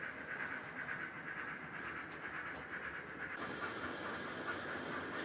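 An EM gauge model railway train headed by pannier tank 7760 runs past on a High Wycombe layout, a faint steady rumble with soft clicking wheels and hiss, slightly changing partway through.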